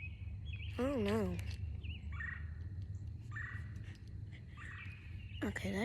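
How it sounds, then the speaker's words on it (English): Outdoors, a bird gives a few short, warbling calls at moderate distance. They come in separate bursts over a steady low background rumble. "that's just a bird"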